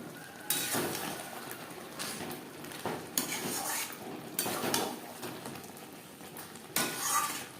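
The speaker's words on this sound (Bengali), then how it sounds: "মাছের সাথে রেড চিলি পাউডার বেশ ভালো করে মিক্সড করে দেব।" A pan of shankar fish curry is stirred after red chili powder is added, with repeated scraping and clinking of a utensil against the pan over a soft sizzle, fairly quiet, with no talking.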